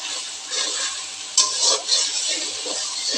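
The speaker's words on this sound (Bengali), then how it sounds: "মরিচ, পেঁয়াজ, রসুন সব দিয়ে ভাজা নিচ্ছি সুন্দর করে" Chili, onion and garlic hiss and sizzle steadily in a hot pan, with a few stirring scrapes and a sharp tap, all close up and without talk.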